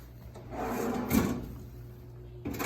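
A kitchen drawer is pushed shut with one solid thud midway, then a lighter knock near the end, against a quiet room background with no talk.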